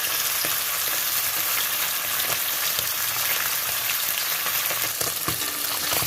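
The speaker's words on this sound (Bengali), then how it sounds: "মাছ ভাজার জন্য তেলটা খুব ভালো করে গরম করে নিতে হয়" Fish frying in well-heated oil in a kadai for a fish curry, a dense, steady crackling sizzle with scattered sharp pops, close and continuous with no talking.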